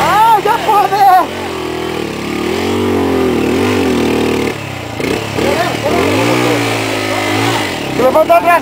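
A trail motorcycle engine revs hard while climbing uphill on a dirt trail ride, its pitch rising and falling continuously and loud up close, with people shouting over it.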